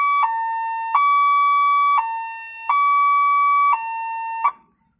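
A siren tone from a small loudspeaker system mounted on a tractor, sounding close and loud as a steady two-tone wail that switches pitch about five times before cutting off abruptly.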